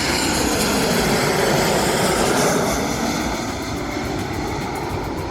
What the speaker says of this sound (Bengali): এটা বাহরাইনের বিমান